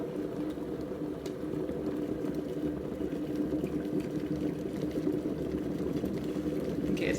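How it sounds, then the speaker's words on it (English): An electric kettle heating toward a boil gives a steady, moderately quiet rumbling hiss of churning water that holds evenly throughout, with no voices over it. "The kettle's starting to come to a boil."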